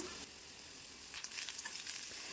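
Sliced onions and shallots sautéing in a pan for a Kerala squid roast, a faint soft sizzle with light stirring scrapes toward the end, close and quiet with no talk.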